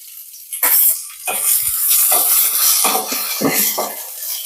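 Onions frying in a pan, a hissing sizzle that swells and fades in waves, interrupted by scraping stirs and metallic clinks of a utensil against the pan.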